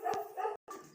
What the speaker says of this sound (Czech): Máme 12 psů